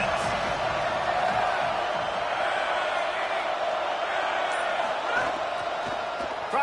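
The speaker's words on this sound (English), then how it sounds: "This crowd trying to make life miserable for this offense." Steady roar of a football stadium crowd at an Oklahoma State game, a dense continuous wash of voices holding at an even level throughout with no talk over it.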